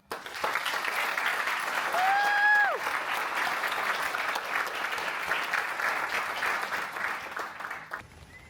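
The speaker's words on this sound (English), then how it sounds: "maybe another round of applause" Audience applause after a thesis presentation: steady, full clapping from a room of people lasting several seconds, with a brief whoop early on and a sudden stop at the end.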